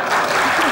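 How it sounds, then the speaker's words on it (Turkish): Studio audience applause during the Turkish sketch comedy show Çok Güzel Hareketler 2, a dense, steady burst of many hands clapping that lasts under a second. "Alkışlamayın, zor duruyor."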